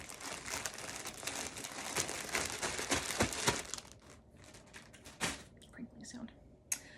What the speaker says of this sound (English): but I don't like the crinkling sound.